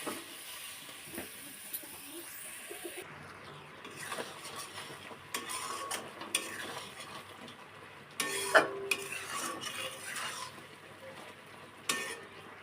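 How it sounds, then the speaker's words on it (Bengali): Amla murabba simmers in melting sugar in a pot, stirred now and then, with soft bubbling, spoon scrapes and a few clinks of utensil against metal, fairly quiet and close. "এটা কিন্তু নাড়তে হবে মাঝে মাঝে যাতে না চিনিটা পুড়ে যায়"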